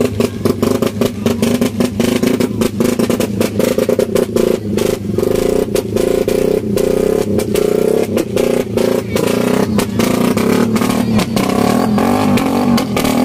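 Motorcycle with a loud exhaust pipe revving hard at a Bicol motorshow loudest-pipe contest, a continuous roaring drone broken by rapid choppy throttle blips, very loud and close for over thirteen seconds.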